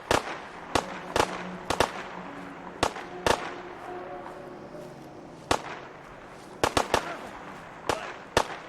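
Gunfire in a video game: sharp, loud shots land singly and in quick pairs at irregular intervals, each a brief broadband crack, over a steady murmur of game background noise.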